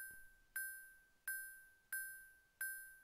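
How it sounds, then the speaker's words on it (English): A bell in the video game Pepper's Adventures in Time rings four clear, evenly spaced strikes, each a bright ding that decays quickly, soft and isolated with no voices. "And it rings the bell."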